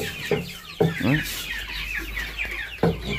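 Chickens cluck in a rural Vietnamese farmyard, a run of close, loud, abrupt clucks and squawks at irregular intervals over a low background rumble and scattered chatter.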